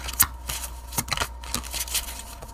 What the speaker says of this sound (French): Je vais mettre une autre carte pour être sûr.